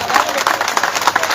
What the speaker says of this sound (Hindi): एक बार जोरदार आप लोग तालियां